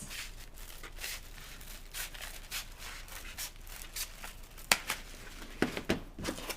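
Crepe paper stem wrap cut by hand for a paper anemone flower, soft crisp snips and rustling crinkles at close range, irregular and fairly quiet.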